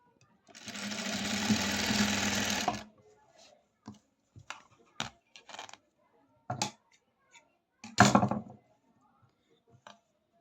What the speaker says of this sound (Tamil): நான் இந்த ஓரமாக தான் தையல் போடுறேன்